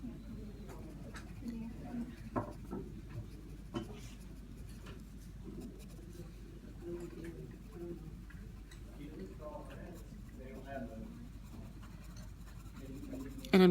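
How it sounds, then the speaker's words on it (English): Pencil on paper drawing small flecks to shade an eye, a run of short scratchy strokes at close range, quiet and steady, with a voice talking over the strokes. "you can kind of start drawing in like actual little flecks to kind of shade in your eye."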